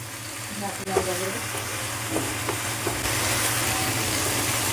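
Snake gourd frying in a pan while being stirred, a steady close sizzle broken by scraping spatula strokes, with the frying noise growing denser toward the end.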